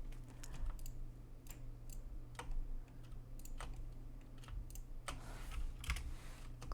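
Computer keyboard keys, including the delete key, clicked while editing in Blender, a run of sharp close taps at an uneven typing rhythm with no talk.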